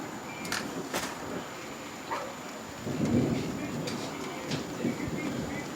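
Thunder from a storm rumbles low and distant, swelling once midway through, while rain and scattered crackles fill the background.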